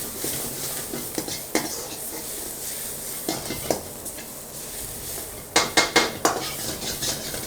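A utensil stirs and scrapes chili chicken with plenty of green chilies in a metal pan at a Kolkata street food stall, with irregular clinks and clanks. A brief cluster of louder metallic hits comes near the end, over a faint background sizzle.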